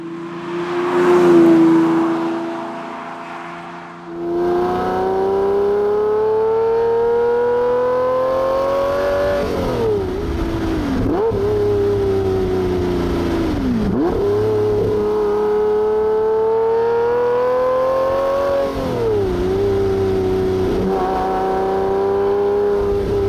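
A Lamborghini Murcielago EVO with about 296,000 miles on it, driven hard: a loud V12 engine climbs through the revs, dips at each gear change and pulls again in repeated surges, heard from inside the car with no talking.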